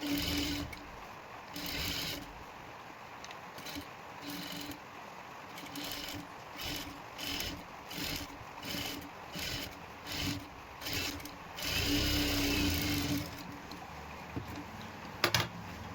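Sewing machine stitching the lining of a princess-cut blouse, a series of short rhythmic bursts with a faint steady hum underneath, moderately close.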